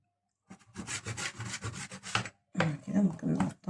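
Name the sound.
cutting cuttlefish for frying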